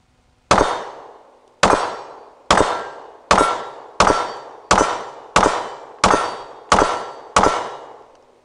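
A Sig P365 pistol fires factory ammo in ten sharp, evenly spaced shots about three quarters of a second apart. Each crack is loud and close and rings out between reports, with no talk.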